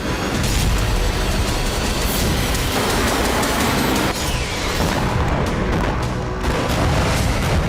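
Israeli aerial bombing strikes in Lebanon produce loud, heavy booms and rumbling blasts that roll over one another in a dense, continuous barrage, with sharper cracks near the middle and end.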